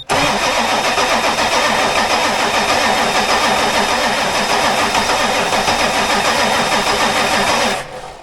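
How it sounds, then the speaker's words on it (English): Ford F250 with a 7.3 Powerstroke diesel engine cranking without catching: a loud, steady, rhythmic churning of the starter turning the engine over for nearly eight seconds, close by, then cutting off abruptly. "Well, she ain't starting, but it's cranking."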